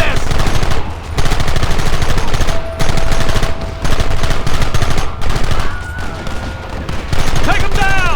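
Dense, continuous gunfire in the Red Dead Redemption video game, with rapid rattling bursts broken by brief pauses, loud and close, mixed with shouting voices.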